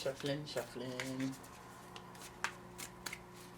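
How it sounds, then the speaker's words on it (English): A voice speaks briefly, then tarot cards riffle and shuffle softly with light rustles and taps, quiet and close. "I'm gonna shuffle away for you, Tyrus."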